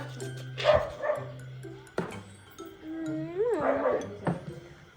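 A dog barks and yips a few times at close range, short sharp calls scattered among other background noise and faint voices.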